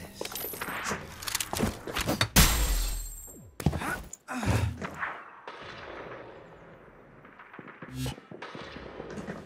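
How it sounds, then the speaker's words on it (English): Gunfire from the video game Hyperscape: a burst of sharp, loud shots with echoing blasts, then several scattered bangs and rustling game sounds, some clustered, some separated by brief pauses. "Shots fired."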